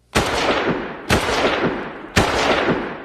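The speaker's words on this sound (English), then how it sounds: "Certainly, the report of a Garand rifle" Garand M1 rifle firing three sharp, loud shots at evenly spaced intervals about a second apart, each report followed by a ringing decay that fills the gap before the next.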